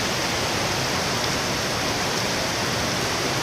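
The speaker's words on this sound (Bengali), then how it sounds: "মুষলধারে বৃষ্টি পড়ছে," Heavy rain pours down in a steady, dense roar with no let-up, a continuous broadband hiss filling the whole stretch with no voices.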